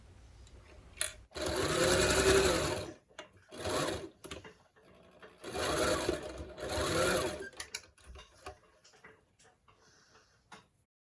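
A sewing machine stitches bias tape for a face mask in several close bursts, its needle chattering rapidly in each run, separated by short pauses and small clicks of fabric handling.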